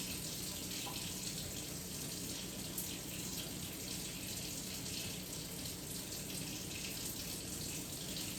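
Steady water runs from a tap while hands are washed at a sink during a sanitization routine, a continuous hissing flow with no pauses and no talking.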